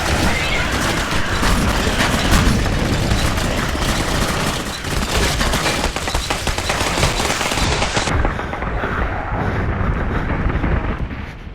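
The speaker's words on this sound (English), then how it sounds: "Permission to fire. Yep, start shooting." Loud, sustained automatic gunfire rattles without pause in the video game Clive Barker's Jericho, with dense overlapping bursts that are close and intense for the whole stretch.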